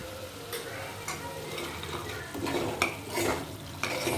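A spoon stirs vegetable masala, coriander powder, garam masala and turmeric in a pan for achari baingan kadhi, making a steady close scraping and rattling with a few sharper knocks against the metal.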